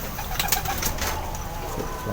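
A red pigeon coos softly close by, a few low throaty calls over a rustling background.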